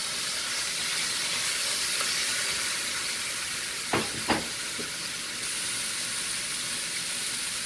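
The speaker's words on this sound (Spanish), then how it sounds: "Echamos la cuchara de manteca o aceite, lo que sea su preferencia. Y echamos a guisar nuestra carne." Pork chunks fry in a hot pan with lard or oil, making a steady, close sizzle with a couple of brief clinks partway through.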